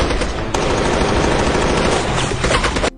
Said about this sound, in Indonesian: James tiba-tiba menembak Garza